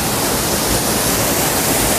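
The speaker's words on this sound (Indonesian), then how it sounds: "air mengalir itu suci" Flowing water running outdoors, a loud, dense and unbroken rushing hiss like a stream or small waterfall, steady throughout with no voices.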